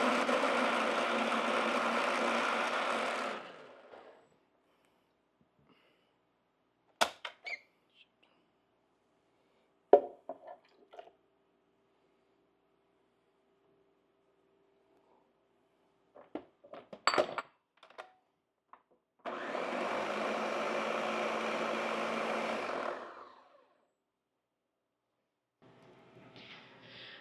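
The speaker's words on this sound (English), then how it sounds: "There is a oil pump here." A loud, steady mechanical drone of a freeze dryer's vacuum oil pump runs for a few seconds, stops, then scattered knocks and clicks follow before the pump drones again.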